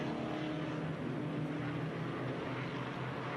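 Historic 1966-1970 Trans Am race cars at Sonoma Raceway, a continuous loud, dense engine roar that holds steady throughout with no voices.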